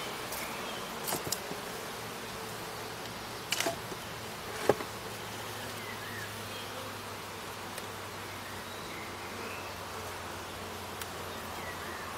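Honeybees buzzing in a steady, dense drone inside a Mini Plus hive being expanded, with a few brief clicks and knocks from handling close by. No talking.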